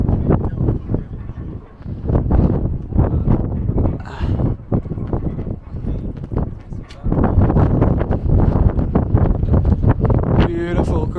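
Strong wind buffets the microphone at the windy summit of the Acropolis in Athens, a loud, continuous rushing roar that gusts and swells throughout, with a voice speaking underneath.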